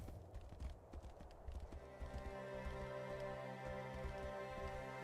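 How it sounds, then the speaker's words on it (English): Quiet, steady hoofbeats of a heavy horse clop along over a droning Tainted Grail: Fall of Avalon game soundscape, with a few sharper knocks early on. "A heavy horse."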